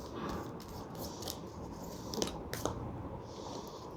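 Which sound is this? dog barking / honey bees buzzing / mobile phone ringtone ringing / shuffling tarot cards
shuffling tarot cards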